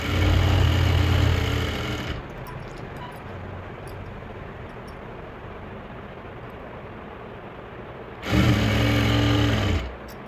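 An electric sewing machine stitches salwar fabric, running loud and steady for a couple of seconds, going quiet with a low background hum, then whirring again in another fast burst near the end, with no talk.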